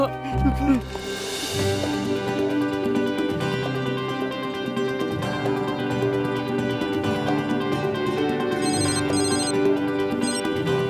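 A telephone rings repeatedly in a scene from a Hindi-dubbed film, its bright electronic ring pattern continuing over background music with voices mixed in.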